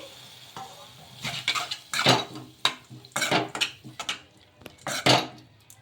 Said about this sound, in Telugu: ఈ విధంగా కొంచెం కొంచెం వేసుకొని కలుపుకోవాలి